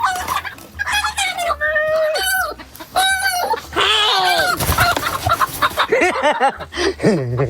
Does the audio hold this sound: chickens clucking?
yes